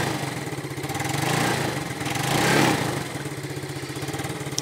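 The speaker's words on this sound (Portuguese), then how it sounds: "No cavalete dá para dar umas aceleradinhas" A 2010 Yamaha Neo scooter, serviced with fresh oil, runs on its centre stand: a steady, slightly rough small-engine idle that swells into two short throttle blips and settles back, close and fairly loud.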